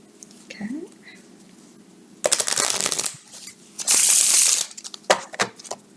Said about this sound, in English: So I was shuffling that deck of cards.